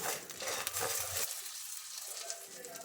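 Chana dal and two dried red chillies frying in hot oil in a pan, a close, steady sizzle with a brief scrape of stirring before the hiss settles down and carries on alone.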